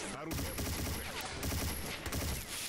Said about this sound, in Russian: Да погоди, да ты видишь, стреляют.